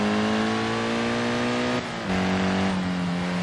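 A four-wheel-drive car drifting in Assetto Corsa, its engine holding a loud steady high-rev drone, with a brief dip and a lower pitch partway through as it slides.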